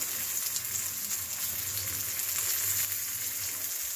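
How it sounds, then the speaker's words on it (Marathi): Mustard seeds pop and crackle in hot oil in a kadhai as a tempering, a dense close sizzle of tiny bursts running evenly throughout without voices. "मोहरी छान तडतडली आहे"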